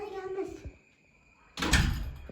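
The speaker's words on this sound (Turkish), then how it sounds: "Kapıyı kapat çabuk." A door in a home is pushed shut, landing as a single loud, close slam after a brief moment of a voice and a quiet pause.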